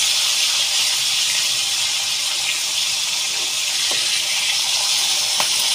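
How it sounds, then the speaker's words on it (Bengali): Bata fish fries in a pan of hot oil with a constant, even hiss and crackle that stays loud and unbroken throughout, a few faint clicks standing out near the end. "মাছ উল্টে উল্টে ভেজে নেব।"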